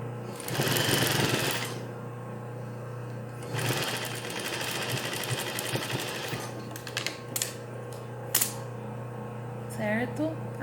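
A sewing machine stitches a French seam in bursts, with a loud run near the start and another around the four-second mark, then shorter stop-start runs and small clicks, over a steady low hum.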